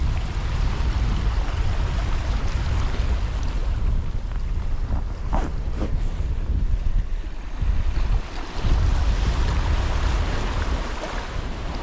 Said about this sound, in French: Mais là retrouver les rochers, les vagues et tout ça, ça c'est quelque chose.